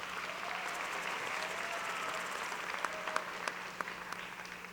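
Graduation ceremony crowd at Wilson Magnet High School applauding in 2015, a sustained spread of clapping from a large audience with a few sharper, closer claps standing out near the end.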